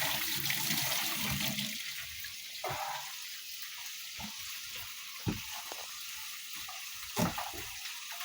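Water runs from a kitchen tap in a steady hiss while peppers are washed in the sink, with a few knocks and splashes breaking through, fairly quiet and without talk.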